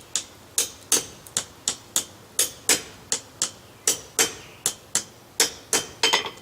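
A hammer strikes a 3/8 inch steel rod, bending it down over the edge of an anvil. About sixteen sharp, ringing blows land close by in a steady, even rhythm, with no talking.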